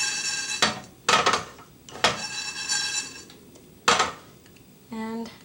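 Whole spices are roasted and shaken in a pan, giving several bursts of metallic rattling and clinking separated by quiet pauses, close up, ending with a short ringing tone.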